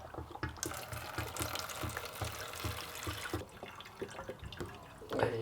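Unleaded petrol pours into a plastic litre mixing jug for servicing a 1953 ATCO lawnmower, a close gurgling, splashing liquid stream with small rhythmic glugs, quiet and continuous.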